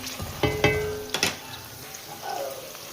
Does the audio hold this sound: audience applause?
no